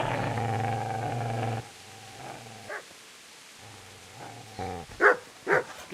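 A mutt in a forest, heard as a low rumbling growl that stops abruptly, followed by a few sharp barks and yelps near the end, close and moderately loud.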